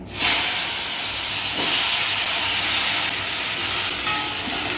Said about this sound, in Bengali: এবার এটা দিয়ে দেবো তেলে